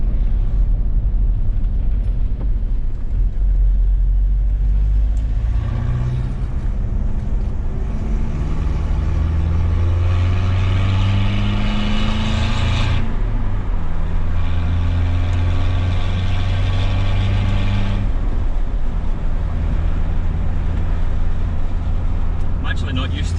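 A Mitsubishi L200 K74 diesel pickup drives on the motorway, its engine drone rising and falling through gear changes over a constant road roar, with someone talking over the noise.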